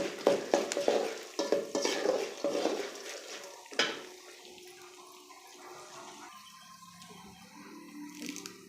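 Garlic with chana dal and urad dal roasting in a pan, giving a soft sizzle with scraping stirs and clinks at the start, then a quieter steady frying hiss.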